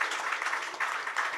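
Soft, steady applause from an audience at a Bollywood launch event, a faint, even wash of clapping that lasts briefly without a break.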